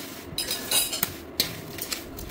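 Raw mango pieces drop into a pickle spice mixture in a metal bowl, several clinks and taps of pieces and a spoon against the vessel, close and fairly quiet.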